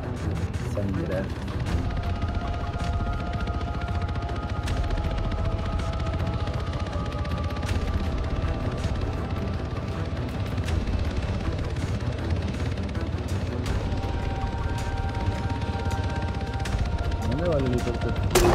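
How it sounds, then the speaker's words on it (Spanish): Helicopter rotor and gunfire in the Arma 3 winter survival game, a steady droning hum with scattered shots throughout, running under players talking. "¿Dónde va el helicóptero?"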